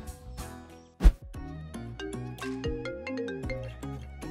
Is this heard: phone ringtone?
yes